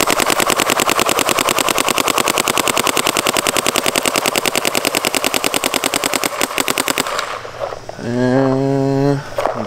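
Rapid bursts of shots from a MacDev DRD airgun, a fast steady rattle of pops filling about seven seconds, then stopping abruptly before a short stretch of tonal, engine-like hum.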